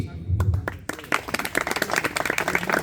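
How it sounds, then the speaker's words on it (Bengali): An audience at a badminton tournament final bursts into dense, steady clapping to welcome the guests, while a voice talks over the start of the applause. "সবাই করতালির মাধ্যমে আমরা উজ্জীবিত করি সকলকে"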